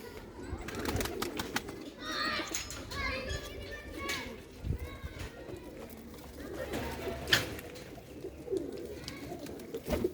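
Rooftop loft pigeons coo in low, steady rolling calls nearby while children play and chatter in the background, with occasional sharp bird chirps and a brief clatter.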